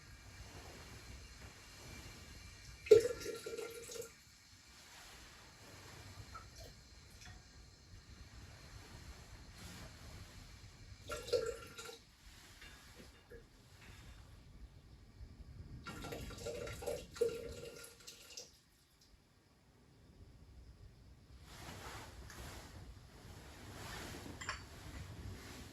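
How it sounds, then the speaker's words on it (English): Cold water is poured in faint, intermittent splashing bursts into a tea ceremony kettle. Quiet pauses separate the pours, and a longer run of pouring comes toward the end. "He fills the kettle for the next time someone will use it."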